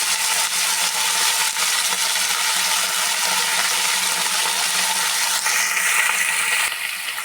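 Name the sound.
chopped brinjal pieces added to frying pan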